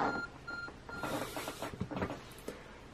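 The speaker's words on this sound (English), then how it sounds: "Your art phone is beeping." Arc Phone beeping in the Pokemon Legends Arceus video game, several short electronic beeps in quick succession near the start, followed by busy game sound effects and clatter.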